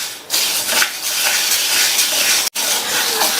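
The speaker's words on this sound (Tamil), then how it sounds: "அதில் 1 கப் அளவுக்கு துவரம்பருப்பை சேர்த்துட்டு மீடியம் ஃப்ளேமில் வச்சு அடிக்கடி இந்த மாதிரி கைவிடாமல் கிண்டி விட்டு" Toor dal being dry-roasted in a pan on the stove over medium flame while stirred constantly, giving a continuous close hiss and rustle of lentils with a brief break partway through.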